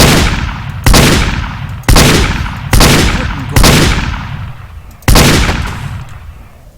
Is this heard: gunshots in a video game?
yes